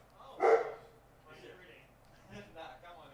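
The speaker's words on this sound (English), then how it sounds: "The barking is starting." A dog barks once, fairly close and loud, followed by softer yips and whimpering sounds at a distance, with no speech in between.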